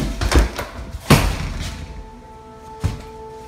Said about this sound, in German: An einem Punkt öffnet sich eine Tür